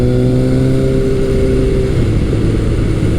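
A Kawasaki KZ1000 CSR motorcycle engine runs loud and close on throttle with a steady low drone, then its tone drops and roughens partway through, ending in a rumbling idle with no voices.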